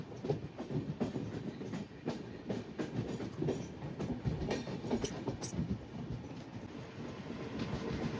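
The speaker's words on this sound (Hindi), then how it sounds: "मुंबई से कोल्हापुर के बीच चलने वाली महालक्ष्मी एक्सप्रेस एंटर कर रही है ठाणे स्टेशन" The Mahalaxmi Express between Mumbai and Kolhapur rolls into Thane station with steady, rhythmic clickety-clack of wheels over rail joints, heard close and continuous throughout, with no talking.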